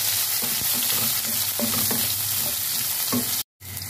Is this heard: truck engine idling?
no